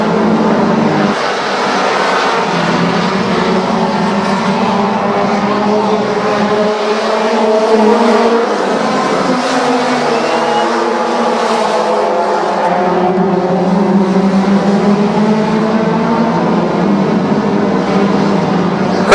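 Race cars roar past the start-finish line of an oval track, a dense continuous loud engine drone with shifting pitches as several cars run side by side, steady throughout with no talk.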